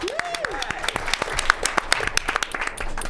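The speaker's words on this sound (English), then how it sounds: "you a round of applause for everyone so far tonight." Comedy show audience applauding in a small studio, a lively burst of clapping from a modest crowd, close and fairly loud, with a brief whistle or vocal whoop near the start.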